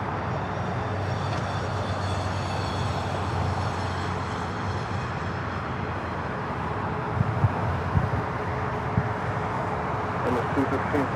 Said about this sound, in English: This is Emirates Flight 216 taking off to Dubai on the A380.